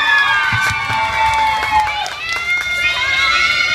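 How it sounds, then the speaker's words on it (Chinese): An outdoor getai show crowd at Bedok Reservoir cheers and shouts with scattered clapping, a lively mass of raised voices and whoops, fairly close and sustained throughout. "我讲到这边的时候，应该来点掌声鼓励。"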